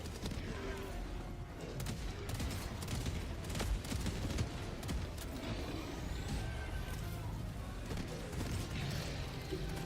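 Autocannon sentry firing in the video game Helldivers 2, a dense rattle of rapid heavy gunfire and explosions under continuous battle noise, with occasional talk underneath.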